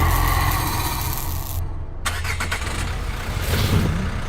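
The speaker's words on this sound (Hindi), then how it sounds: "साहब, गाड़ी सेल्फ स्टार्ट हो गई।" A police car's engine starts up on its own. A loud engine rumble runs, briefly drops away, then catches again and settles into a steady, close idle with a low throaty tone.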